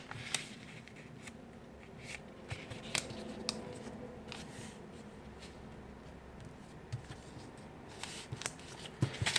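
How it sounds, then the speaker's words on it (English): Paper being folded into an origami airplane: soft crinkling, rustling and creasing sounds with occasional sharp crisp presses, close and steady throughout, no talking. "And one more fold, start from this corner, fold straight to the other corner."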